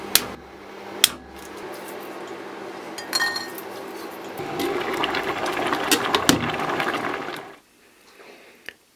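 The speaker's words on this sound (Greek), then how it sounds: "Θα σπάσουμε και τα καρύδια μας όσο βράζει η κολοκύθα." Sharp cracks and clinks of walnut shells being broken, a few distinct snaps over a steady clattering background, then quiet with one last crack.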